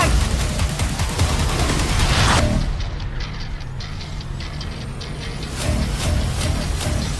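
A loud, dense blast of rumbling, crackling noise from a slow-motion vehicle explosion in a film trailer fills the first seconds, then drops to a lower roar with scattered bursts and debris-like rattling.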